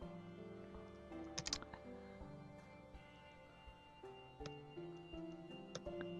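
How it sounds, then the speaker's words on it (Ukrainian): Quiet clicking of a computer keyboard being typed on, irregular keystrokes in short bursts over soft background music, with no talking. "Надіюсь, ви не чуєте, як я клацаю по клавіатурі."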